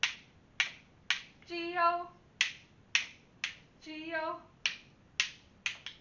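Crisp rhythmic claps or rhythm stick taps keep a steady beat for the Bingo children's song, evenly spaced sharp hits alternating with short sung phrases from a single voice.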